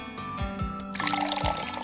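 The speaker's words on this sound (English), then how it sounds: "Then we're going to add 6 cups of water" Water is poured into a pot for ramen broth, a loud rushing splash that starts abruptly halfway through after a few soft knocks, close and steady until the end.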